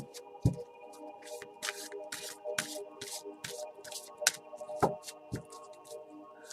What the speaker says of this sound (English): I'll just shuffle the deck and tune in for you.